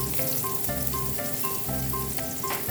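Garlic and ginger fry in a hot pan, giving a steady, close sizzle with soft crackles throughout and no voices.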